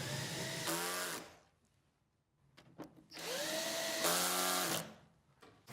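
Power screwdriver or drill driving screws into a Sunny Boy Storage battery inverter cover, two sustained whirring runs with rising pitch separated by a quiet pause with small handling clicks, close and without talking.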